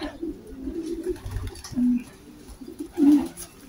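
Racing pigeons coo in low, soft bursts, a few nearby birds calling in short repeated phrases over quiet background noise.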